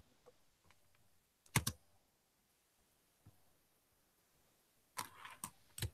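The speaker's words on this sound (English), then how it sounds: "I'm typing, but it's not acknowledging, so I don't really know what I've typed." Computer keyboard typing on a slow computer, heard as short clusters of key clicks, a brief burst mid-clip and a denser run near the end, with quiet gaps between.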